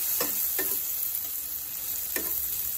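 Tomatoes fry in hot oil in a pan for a Roopchand (pomfret) fish curry, giving a close, steady high hiss broken by a few crisp spatula clicks, with no voices.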